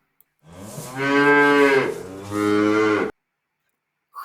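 A cow moos loudly and close by in two long, drawn-out calls, the second shorter than the first, with no other sound around them.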